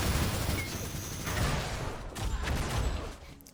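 Gunfire and impact sounds from an Unreal Tournament match, with a sniper rifle headshot among them, heard as a busy mix of shots and booms at moderate loudness with no clear voice.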